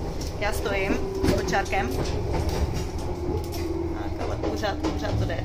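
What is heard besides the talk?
festival train running on rails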